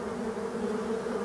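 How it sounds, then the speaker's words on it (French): Black forest bees, survivors of abandoned hives, drone in a steady, dense buzz around their hive, a continuous close-up hum with no pauses or voices. "Même aujourd'hui, hein, elles ne s'occupent pas de moi du tout."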